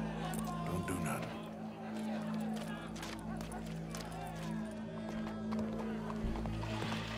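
Horse hooves clip-clop at a steady pace in the video game Red Dead Redemption 2, mixed with a crowd, background score and game voices talking over the scene.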